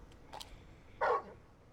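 Torgal, the dog in Final Fantasy XVI, gives a single short, close bark after a couple of faint softer sounds, in an otherwise quiet moment.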